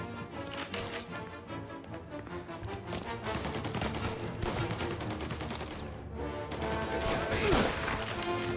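Repeated rifle gunfire from a repeating rifle in Mafia: Definitive Edition rings out over a dense, continuous game soundscape with music and ambience, the shots blending into a busy mix rather than standing apart.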